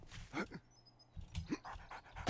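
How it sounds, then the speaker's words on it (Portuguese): A dog in the game 7 Days to Die pants and whimpers in short ragged bursts with brief pauses between, faint and close. "É um cão."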